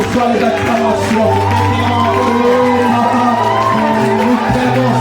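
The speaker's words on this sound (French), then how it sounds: "Reçois les acclamations." A church congregation cheers and acclaims during a Sunday worship service, a steady, loud crowd roar with voices and shouts blending over sustained organ-like tones throughout.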